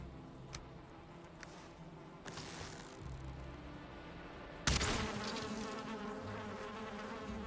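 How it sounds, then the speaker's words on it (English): Bees buzz continuously in the Valheim video game, a steady insect drone with faint clicks, growing louder partway through, with no talking. "Oh, there's a bee. I heard you, bee friend."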